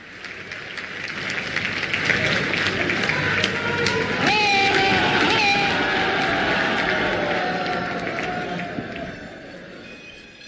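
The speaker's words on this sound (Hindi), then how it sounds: "आप सब अपनी भावनाओं के पुष्प जोरदार तालियों के माध्यम से मंच तक पहुंचाएंगे" Audience at a public project inauguration event in Varanasi clapping, a sustained crowd applause with cheering and background babble, alongside an amplified voice.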